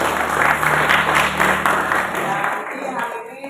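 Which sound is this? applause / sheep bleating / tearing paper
applause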